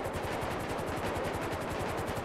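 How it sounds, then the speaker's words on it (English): Rapid automatic gunfire from a shooter on the second floor of a building during a GTA roleplay police chase, a steady fast rattle of evenly spaced shots, fairly faint and distant, heard from above over engine drone. "He's shooting again."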